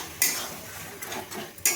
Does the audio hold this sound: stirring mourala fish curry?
yes